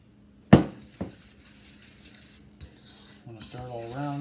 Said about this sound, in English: I'm gonna stir it all around, scrape the sides.